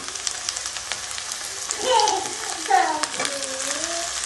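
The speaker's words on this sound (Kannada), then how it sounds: "ಚೆನ್ನಾಗಿ ಫ್ರೈ ಆಗಿದೆ. ಇವಾಗ ಟೊಮೊಟೊ ಸೇರಿಸ್ಕೊಳ್ಳೋಣ." Chopped tomatoes sizzle as they fry in a hot pan for vegetable rava upma, a steady crackling hiss that swells briefly when they hit the oil and then settles into an even fry.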